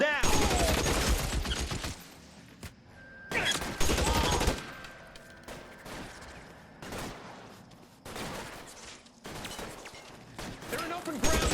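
Gunfire in LA Noire on PS4, with bursts of shots in several loud clusters between quieter stretches, heard alongside game dialogue and shouting.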